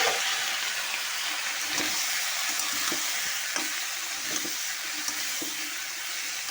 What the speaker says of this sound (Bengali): 5 ফোড়নটা ভাজা হয়ে এসছে, খুব বেশি পোড়াবো না 5 ফোড়নটা